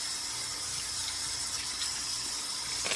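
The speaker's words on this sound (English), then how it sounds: "I'm gonna rinse my hands off." Steady running tap water splashing over hands being rinsed in a sink, a close, even hiss and patter throughout with no voices.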